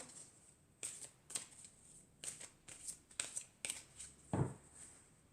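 Tarot cards are shuffled and drawn in short, crisp riffling bursts with soft taps in between, close and quiet, with no talk over them.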